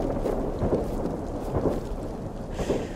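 Rain and thunder in the survival game DayZ on the Chernarus map, a continuous low rumbling roar with heavy rain noise throughout and no talking.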